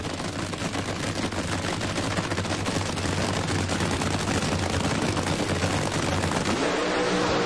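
A drag racing car roars off the starting line at the 1996 NHRA Mac Tools Gatornationals, a loud, dense, continuous engine blast filling the whole stretch without easing.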